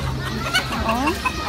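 Chickens at a mini zoo in Sustainable City, Dubai, give short, nearby clucks and squawks over a low background of voices and ambient noise.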